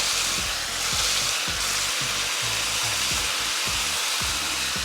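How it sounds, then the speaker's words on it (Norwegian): Onions frying in a hot pan while making sloppy joes, giving a loud, continuous close sizzle with occasional stirring scrapes. "Og da når vi er sikre på at vi har fått tilbake varmen ordentlig i panna igjen, så kjører vi løken oppi."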